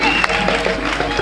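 Church congregation applauding and cheering at a CMCI evangelical convention in Korhogo, a dense steady wash of clapping with scattered voices mixed in, close and fairly loud through a brief moment.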